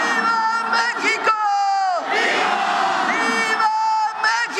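Crowd of voices shouting "Viva Mexico" in Mexico City's historic centre, loud sustained cheering and yelling with rising and falling chants across the whole stretch.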